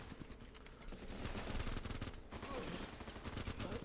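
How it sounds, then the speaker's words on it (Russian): Machine-gun fire in the game Running With Rifles rattles in rapid, sustained bursts, fairly faint and distant-sounding, with a steady chattering rhythm throughout. "Пулемет очень сильно выкашивает врага."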